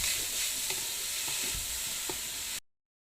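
Coconut coated in sugar fries and sizzles in a hot wok, a steady hiss with occasional light scraping stirs, close and continuous until it cuts off abruptly.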